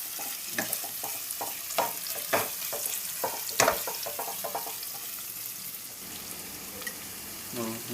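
Meat sautéing with ginger-garlic paste in a home pan, a busy close sizzle broken by repeated scraping stirs and clatter, with faint talk in the background.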